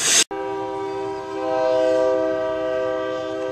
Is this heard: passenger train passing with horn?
yes